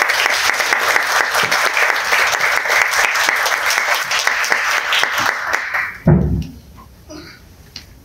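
Loud applause from the audience at a Korean association's 30th anniversary ceremony, many hands clapping quickly and steadily, then it stops abruptly with a thump and fades to room hush.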